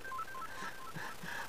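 A mobile phone in a lecture audience gives off a short run of electronic keypad-style beeps, steady tones stepping up and down, faint against the room with no talking over them.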